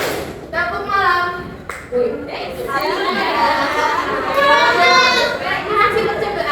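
Children in a classroom play a rhythmic clap game, sharp group claps mixed with lively chatter and children's voices throughout.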